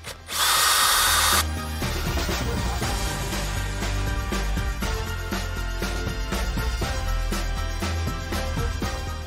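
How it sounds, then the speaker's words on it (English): A power drill whirs loudly in a short high burst, then keeps grinding with a rhythmic, chattering bite as it bores a pilot hole into timber for building a vegetable garden bed. "drill a pilot hole so you're not splitting the timber when you drive your bugles in"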